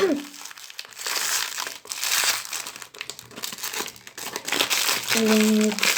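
A plastic bag crinkles loudly and continuously up close as it is handled, with brief bits of voice at the start and end.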